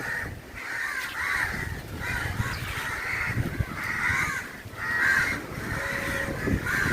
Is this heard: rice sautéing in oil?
no